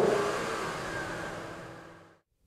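A 2014 Ford Mustang GT convertible with the 5.0 V8 revs in one steady, loud sustained burst, holding for about two seconds before cutting off sharply into silence.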